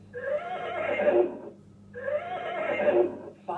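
A toy animal sound plays a brown horse's neigh: two loud, drawn-out whinnies in a row, close and clear, with a short pause between them.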